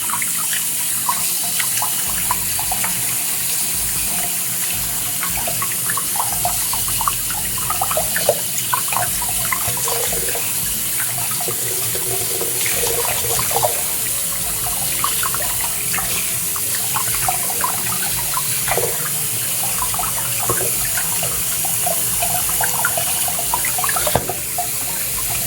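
Water poured over a Samsung Galaxy S25 Ultra smartphone, soaking the speaker grille and USB Type-C port; a steady, close splashing trickle runs continuously, like a running tap, with no voices.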